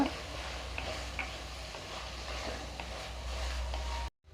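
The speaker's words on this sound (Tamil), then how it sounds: "சுண்டக்காயும் எண்ணெயில் நல்லா வதங்கிக்கிட்டு இருக்கு" Turkey berries (sundakkai) frying with tomatoes in oil for a thokku, a soft, steady sizzle with faint stirring clicks, close and quiet, cutting off abruptly at the end.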